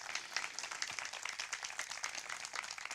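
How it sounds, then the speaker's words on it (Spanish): A church congregation at a 2018 baptism service claps in praise, a faint, steady patter of many hands spread evenly across the room with no voices above it. "Denle un aplauso al Señor por eso."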